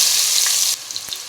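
Onions dropped into hot oil for a mutton gongura curry, a bright loud sizzle that abruptly drops to a quieter crackle with a few sharp pops.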